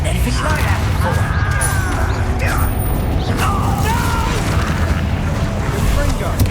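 An explosive Confringo spell in the video game Hogwarts Legacy bursts with a loud, dense roar amid continuous battle effects and game music, with voices over it.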